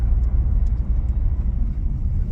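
A Squarebody truck's engine rumbles close and steady through a downshift, a continuous low drone with slight surges and no speech.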